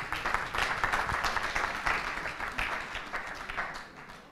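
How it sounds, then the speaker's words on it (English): An audience claps steadily through a graduation ceremony for BYU Pathway in Kampala, Uganda, a dense and even patter of many hands that holds at moderate loudness throughout. "Thank you for that hand clap."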